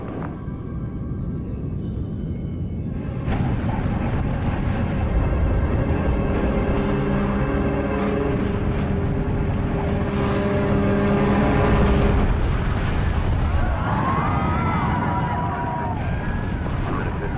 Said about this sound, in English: It's time to turn up the main engines to full power.